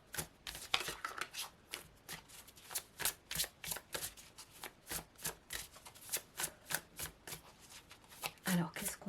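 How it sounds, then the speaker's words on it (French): Oracle cards shuffled by hand for a reading, a steady run of quick papery riffles and slaps repeating about every half second, close and fairly quiet. "Allez, une petite carte avec la règle de la voix des âmes d'Isabelle Serre"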